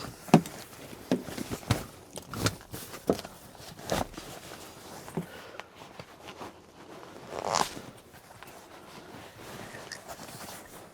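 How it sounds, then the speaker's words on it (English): Several short zipper pulls on a car seat cover rasp in bursts, close and fairly loud, with brief pauses and soft handling noises between, no talking. "so we'll open the zipper"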